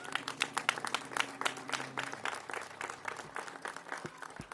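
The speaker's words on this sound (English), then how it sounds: "Can you all give yourself a big round of applause, please?" Group of women at a Women's Equality Day celebration applauding themselves, with sharp, fairly close claps in a quick, uneven rhythm that thins out toward the end, with a low hum underneath.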